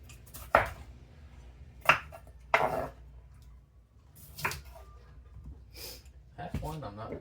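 A knife cuts vegetables on a board while preparing corned beef and cabbage: four or five sharp, separate chops spaced a second or more apart, set close against a low background murmur.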